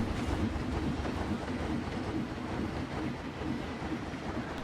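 A train runs along its track in the theme-park game Planet Coaster, giving a steady, continuous rumble with a faint rhythmic clatter that stays at an even, moderately loud level throughout, with no voices.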